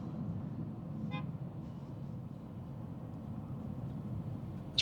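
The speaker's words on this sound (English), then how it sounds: "This person's honking to get in" A single short car horn toot sounds from another driver trying to merge into traffic, heard once near the start over a steady low rumble of road and engine noise from a car interior.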